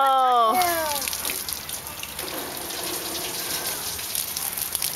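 Water squirting from a tap, a continuous hissing gush that starts abruptly after a brief whistle-like tone and runs steadily, close and moderately loud, with no talk over it.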